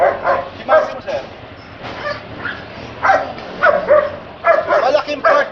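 A dog barks and yips in short, repeated bursts during protection training with a handler, the barks close and loud over steady background noise and people talking.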